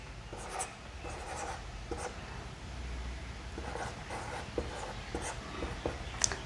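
Pen scratching across paper in steady handwriting strokes, writing out Kaithi script land-measure units, close and continuous with short irregular bursts and a faint background murmur.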